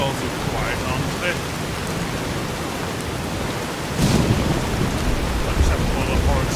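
Rain pours steadily during a thunderstorm in the video game Fallout: New Vegas, then a deeper rolling thunder rumble swells in partway through and carries on under the downpour.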